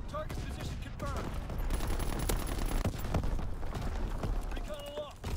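Video game battle with rapid, dense bursts of gunfire and explosive artillery blasts layered over a constant rumble, with brief spoken game radio chatter mixed in.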